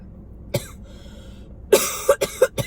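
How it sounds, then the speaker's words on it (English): A person coughs several times: one single cough, a pause, then a quick cluster of three or four harsh, close coughs, alone with no talk. "I am coughing."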